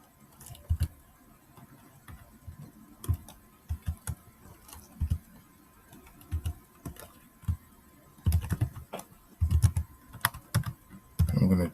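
Steady clacking of a computer keyboard during Python coding, uneven bursts of keystrokes near the microphone that grow denser and louder toward the end.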